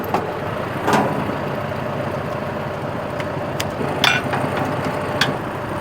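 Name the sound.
tractor engine idling before fitting mower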